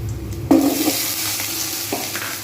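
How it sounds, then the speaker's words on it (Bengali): Pieces of taro frying in hot oil in a pan, a steady sizzle with a scrape and stir around the half-second mark and another shuffle near the end. "কচুটা একটু ভাজা ভাজা হয়ে আসছে"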